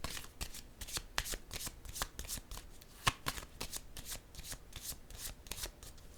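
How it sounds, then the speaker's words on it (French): A deck of tarot cards is shuffled and a card is drawn, giving a close, crisp run of riffling and flicking card sounds with sharp slaps, steady throughout and with no talk. "Je vais piger une autre carte ici."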